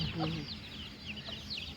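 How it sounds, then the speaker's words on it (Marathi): Chickens clucking and calling close by in a village yard, several short overlapping clucks over a low background murmur that may include faint voices. "किती कोंबड्या आलेल्या आहेत"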